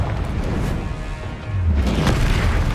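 A Confringo blasting spell goes off in a wizard video game, a deep booming burst that swells in the second half after a quieter rumbling start, with no talking.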